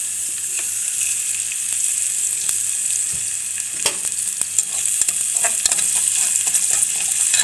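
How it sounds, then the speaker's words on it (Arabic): Potatoes and onion fry in hot oil with a continuous close sizzle, scattered crackles and pops, and frequent sharp scrapes of stirring throughout. "نحمر بقى البطاطس والبصل قصدي"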